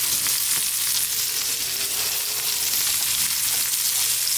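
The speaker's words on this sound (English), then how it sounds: "I'm trying to sear them." Leeks searing in a hot pan give off a steady, loud sizzle and crackle that runs unbroken throughout, close up with no talking.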